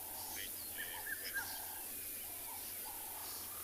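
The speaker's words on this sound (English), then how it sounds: "there are squirrels and birds shouting all over the place" Birds and squirrels call at dawn on a safari in the African bush, with scattered chirps and short whistled notes sounding faint and distant over a steady background hiss.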